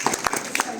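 A group claps for a class 9 science exhibition model in a short burst of scattered, uneven hand claps, with voices mixed in.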